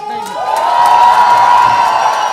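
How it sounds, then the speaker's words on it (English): Loud audience cheering at a film promotion event for Antim, a sustained roar of shouts and whoops rising quickly and holding strong, with some clapping mixed in. "Come on, guys, make some noise!"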